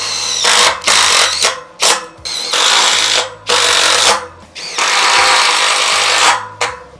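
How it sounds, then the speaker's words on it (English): A power drill drives Tek screws into a metal pole, several loud whirring bursts of varying length separated by short pauses, close by and with no talking. "Just using Tech screws to affix this to the pole. It's a metal pole, so 3 Tech screws is perfect."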